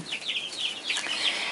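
Month-old chicks in a brooder peeping and clucking excitedly over their first treat, a busy cluster of soft, overlapping chirps close by.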